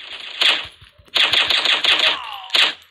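M4 carbine fire in a PUBG-style shooter game: loud, close bursts of rapid automatic shots, a brief volley followed by a longer sustained burst and a final short one, with no talk over it.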